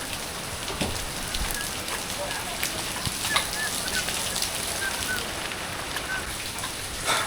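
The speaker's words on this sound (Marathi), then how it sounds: "पाऊस पडतोय" Steady rain hisses down in a soft, continuous wash, with faint scattered patters and a distant bird call or two.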